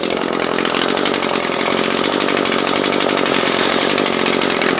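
An Echo SRM 2320T string trimmer's small two-stroke engine idles just after starting, making a loud, close, steady buzzing putter with a fast, even pulse throughout.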